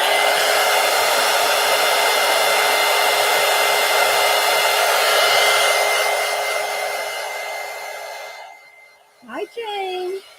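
A hair dryer blows loud and steady over mixed media paint for about eight seconds, then shuts off and fades, and a brief voice follows.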